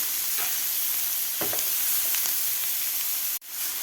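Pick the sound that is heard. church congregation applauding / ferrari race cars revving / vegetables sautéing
vegetables sautéing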